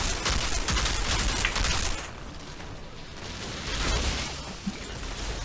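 Rapid bursts of gunfire from the video game Outriders, a dense crackling volley for about two seconds that then drops to a quieter, rumbling firefight with scattered shots.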